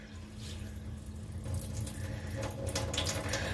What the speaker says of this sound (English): So the water's getting more clear. Make sure you rinse your rice off